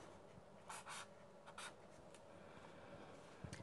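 A pen writes a number on paper at a desk: a few quick, soft scratching strokes come in short bursts, quiet and close, with no talking.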